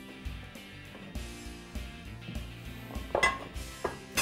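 A plate clinks down on a kitchen counter during steak plating, with a few soft ceramic knocks and a louder clatter near the end, close and alone with no talking.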